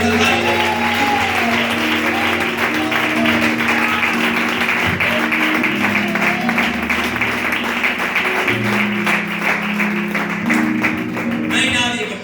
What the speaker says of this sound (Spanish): Pueden dar un aplauso al Señor en esta tarde.